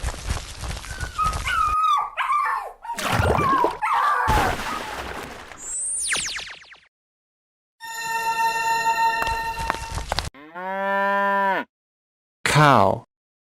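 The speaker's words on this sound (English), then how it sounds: "Wolf." Cartoon wolf sounds from an animal cartoon: a jumble of animal cries and effects, then a long tonal howl-like call rising and falling, followed by a brief final cry, loud and close.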